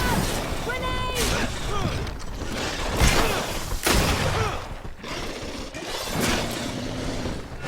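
A grenade blast in a Greedfall battle lands amid chaotic fighting, with several loud, sharp booms and crashes breaking through ongoing clatter while voices shout over the combat.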